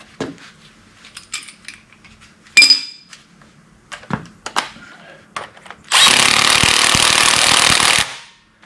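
A 3/8 inch impact wrench drives an oiled bolt into a tractor being rebuilt, a loud sustained two-second hammering burst near the end, after scattered metallic clinks and tool handling.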